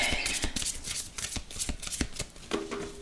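A deck of tarot cards is shuffled and cut up close, producing quick papery riffles and slaps in rapid bursts, with no voices.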